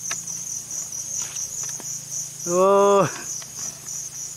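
A dense rural chorus of crickets chirping steadily in the provinces, joined by a loud, drawn-out insect buzz near the middle, with a brief spoken exclamation at the start.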